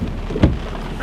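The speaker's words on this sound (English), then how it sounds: "Not a sprinkle, it's raining." Steady rain falls outside a church at a chili cook-off and hot rod show, a constant wash of drops with one brief louder thump partway through.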